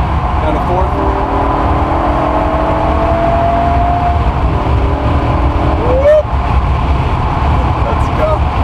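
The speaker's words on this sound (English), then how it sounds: "perfect time for a little pull. Are we ready? Shifting down to 5th, down to 4th." A car engine accelerates after a downshift to fourth gear on a wide Canadian highway. Loud, steady engine and road roar runs throughout with a rising tone, heard from inside the car.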